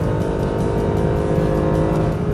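A Mercedes SLS AMG Black Series V8 on a flat racing circuit, engine loud and close, revving hard in a sustained harmonic roar that climbs toward 8,000 RPM, with no talk.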